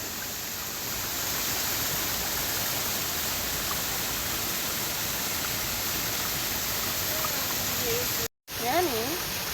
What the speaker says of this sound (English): guys, this waterfall is so